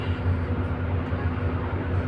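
Steady low rumble of a small train rolling along, continuous and fairly loud with no talking.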